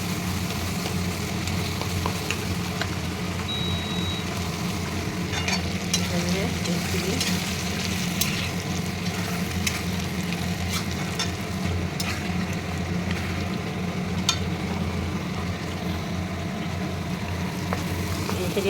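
Spices with ginger and garlic frying in a pan for chicken pulao, a continuous soft sizzle with occasional scraping stirs, close and steady, with a low background hum.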